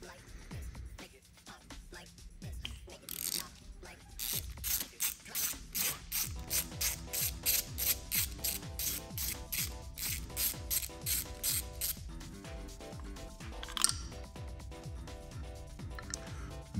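A ratchet wrench loosens the single 10 mm bolt holding the camshaft position sensor on an LS engine swapped into a Cutlass, sounding as steady close clicking strokes in even bursts that speed up midway.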